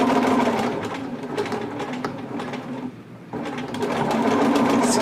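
A sewing machine runs steadily and fairly loudly, stitching an elastic jogger waistband with a continuous whirring hum. It slows briefly near the middle, then picks back up.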